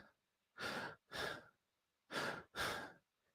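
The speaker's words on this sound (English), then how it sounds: "All I'm doing is expanding my diaphragm, and that sucks the breath in." Four deep breaths in two pairs, each a soft, airy rush lasting about half a second, close and clear with short pauses between.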